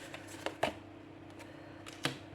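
Tarot cards are laid over a spread on a table, giving a few soft, close card slaps and light taps over a quiet background hum.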